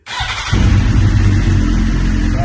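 A worn 2009 K9 Suzuki GSX-R 1000 motorcycle cranks briefly, then its engine catches and settles into a loud, close, steady idle rumble.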